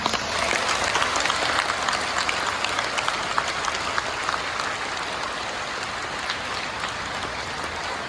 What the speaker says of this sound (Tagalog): itaas natin ang ating mga kamay at pumalakpak ng mas malakas